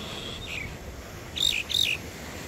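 A blackbird calls outdoors near a dog: three short, high chirps, one alone and then a quick pair, fairly faint over steady background hiss.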